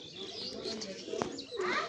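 Pigeons coo and chirp in a flock behind a speaker in a backyard, steady low warbling calls running throughout with a short sharp sound near the middle, a voice talking over them.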